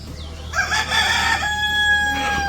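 A rooster crows once, loud and close, in a village yard at morning feeding time, its long drawn call rising over a low background hum with no talk.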